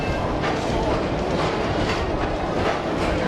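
A 1995 Magic Kingdom Skyway gondola pulls out of Rocket Tower Plaza Station in Tomorrowland with a loud, steady mechanical rumble and rattling clatter that stays constant throughout.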